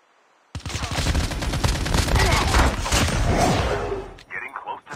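Sustained rapid gunfire in Call of Duty Mobile, a loud continuous burst of shots that starts abruptly after a brief silence and runs for several seconds before cutting off.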